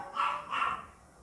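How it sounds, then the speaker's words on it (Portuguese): A dog barks twice in quick succession, moderately loud and slightly distant, with no talk over it. "Tem um cachorro latindo aqui"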